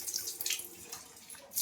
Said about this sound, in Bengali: আমি চিংড়ি মাছটা একটু ভালো করে ধুয়ে নিই